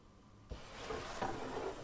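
A heavy bookshelf in the horror puzzle game Ib slides aside after a short quiet lead-in, a sudden low thump followed by a sustained scraping, grinding rumble lasting over a second, close and moderately loud with no speech.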